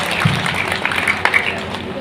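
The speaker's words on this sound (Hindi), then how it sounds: "उनके लिए भी जोरदार तालियों से स्वागत किया जाए" Crowd applause welcoming someone speaker at a speech competition, a dense patter of many hands clapping, with voices mixed in beneath the clapping.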